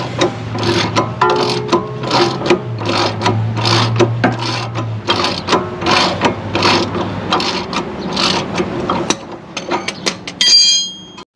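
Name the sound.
loosening the bottom suspension bolt and nut on a Dodge Magnum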